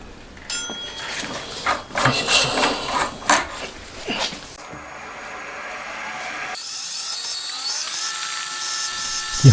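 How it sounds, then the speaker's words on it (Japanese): Drilling a Honda Monkey engine crankcase part, with a center drill first and then thin drills: several sharp metallic taps and clicks give way to a steady machine whine that grows gradually louder and stays close. "基本通りにセンタードリルの後、細いドリルから順番にやっていきます。"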